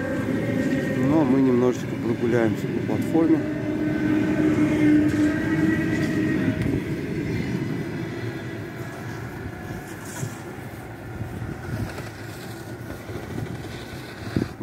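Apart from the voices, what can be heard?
electric commuter train departing Bitsa station, MCD D2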